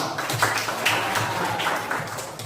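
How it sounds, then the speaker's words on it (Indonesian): A class of students claps hands during a gymnastics lesson, scattered claps over a noisy, roomy indoor background. "Tepuk tangan lagi"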